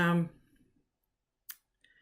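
A computer mouse gives a single sharp click, heard alone right after a voice fades out, followed by a faint short tick.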